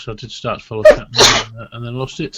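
A single sharp sneeze bursts out mid-conversation among men chatting on a live vape talk show, loud and close amid their continuous speech.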